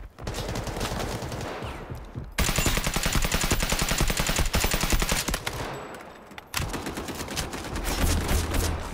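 Sustained bursts of rapid automatic gunfire from a picked-up gun in the shooter game Delta Force, loud and close, with brief pauses around two and six seconds before the firing resumes.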